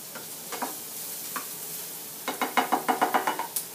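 A spoon stirs fried cabbage samosa filling in a pan, with soft scrapes followed by a run of about ten quick, evenly spaced knocks against the pan over a faint sizzle.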